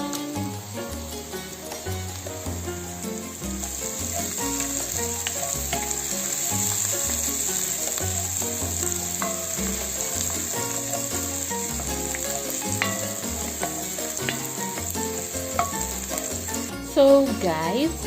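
Onions frying in oil for pilau, giving a continuous close sizzle with crackling pops and occasional stirring sounds, steady in loudness throughout with no talking.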